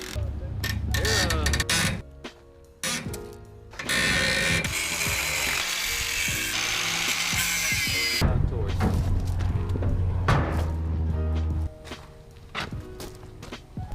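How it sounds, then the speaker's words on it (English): Nuts come off the U-bolts of a trailer axle with ratcheting clicks, metallic clanks and a few seconds of steady wrench or tool noise, close by, with some movement around it. "we're going to start by removing the nuts on these 2 U-bolts so that we can remove the axle"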